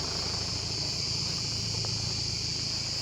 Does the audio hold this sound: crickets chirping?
yes